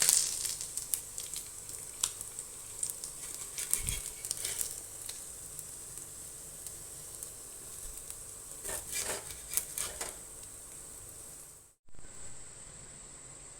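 Fish frying slowly in a pan over a low flame, giving a steady high sizzle with scattered pops and crackles and a few louder spatters, briefly cutting out near the end before the sizzle resumes.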